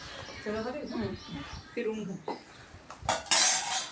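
A spoon clatters and scrapes in a pot while homemade pickle is stirred with mustard dal, cloves and spices, with someone talking over the mixing and louder clinks near the end.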